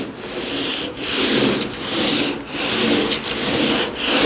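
A sanding block skims lightly over not-yet-cured Bondo body filler, making rhythmic back-and-forth rasping strokes, close and fairly loud, with brief pauses between passes and no talking.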